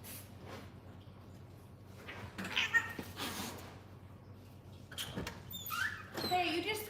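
A house cat gives several short meows, some close and some fainter, against a quiet indoor background while a person talks intermittently.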